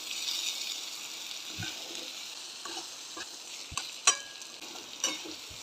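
Dry potato bhaji is stirred as it fries, giving a faint, even sizzle with quiet scraping and a few light knocks of the spoon against the pan.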